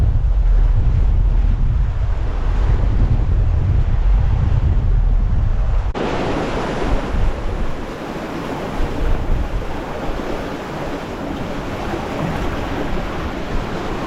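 Strong wind of about 20 knots rushes steadily across a sailboat off the southern Belize cays, near coral shallows and mangrove islets in flat water. Loud, continuous buffeting with a sharp jump in intensity midway; no voices.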